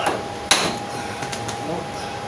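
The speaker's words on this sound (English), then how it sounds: "And then you hammer, give it a shot." One sharp hammer blow strikes a front suspension part on an Avro Speedster, a close metallic whack over a faint background hum, followed by a few lighter taps.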